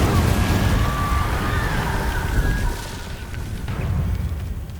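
Deep booming blasts and whooshing magic bursts from Incendio and Repulsor spells in the video game Hogwarts Legacy, loud and continuous, fading somewhat toward the end.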